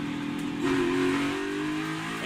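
A NASCAR Cup Series race car engine at Michigan International Speedway drones loudly, then revs up and holds a higher pitch, with a steady roaring rumble throughout and no voices.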